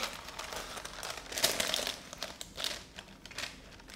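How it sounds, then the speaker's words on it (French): Small protective paper wrapping is peeled off, giving soft crinkling and crackling bursts close by, quiet and irregular over a few seconds, with no talking. "je t'enlève le petit papier"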